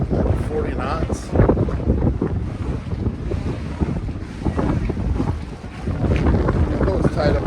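A strong wind of about 40 knots in the Bahamas beats on the microphone in loud, gusty roaring bursts around a tied-up boat, constant for the whole stretch with no voices.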